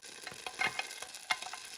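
Two tablespoons of butter sizzle in a large pan for soup, a soft, steady crackle with small pops, alone and fairly quiet.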